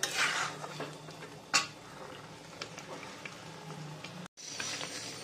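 Mutton masala stirred in a pan, metal spoon clinks and scrapes over a faint sizzle, one louder clatter partway through, close and moderately quiet without speech.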